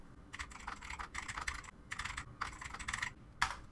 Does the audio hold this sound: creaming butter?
no